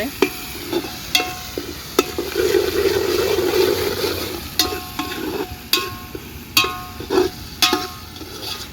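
Ginger roasting in a pan for masala rice: a soft frying hiss with a swell of sizzle in the middle, punctuated by several sharp metallic clinks and scrapes of a spoon against the pan.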